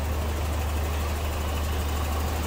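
A 1985 Toyota Celica GT-S's 2.4-liter fuel-injected 22RE engine idles with a steady, low hum, even without variation, close and constant.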